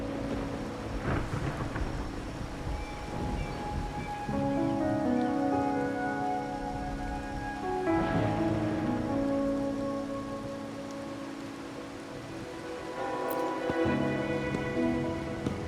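Steady rain and rolling rumbles of thunder in the video game Wuthering Waves, a continuous wash of downpour with deep booms swelling through it and no talking.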